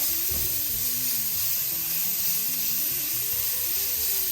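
Ground spices with cinnamon and Espelette pepper roast in a hot pan, giving a steady sizzle and hiss with faint stirring underneath, quiet and continuous.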